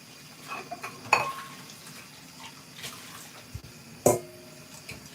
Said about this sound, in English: just washing the dishes